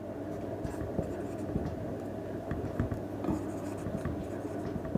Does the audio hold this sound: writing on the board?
yes